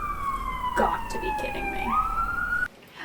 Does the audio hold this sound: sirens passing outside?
yes